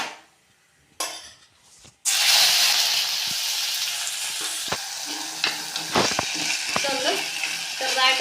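A crushed mix of chili, ginger, garlic, shallots, cumin and pepper drops into hot oil for a Kerala green chili rasam, bursting into a loud, steady sizzle after a brief quiet start, with scattered spoon and pan clinks over it.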